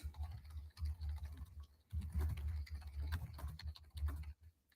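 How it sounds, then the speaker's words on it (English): Steady computer keyboard typing, close by, in bursts of rapid keystrokes with short pauses between them. "I don't know if you can properly hear my keyboard"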